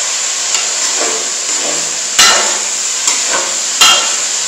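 Mutton pieces frying in oil for a Peshawari charsi karahi, a steady close sizzle with a few sharp metallic clanks of a utensil against the wok, no voices.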